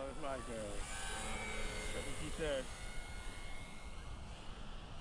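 An E-flite Night Timber RC airplane flying over a runway at night, its electric motor whining and sweeping in pitch steadily throughout, with people talking nearby.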